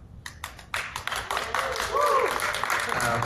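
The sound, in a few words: audience applauding at Eurovision press conference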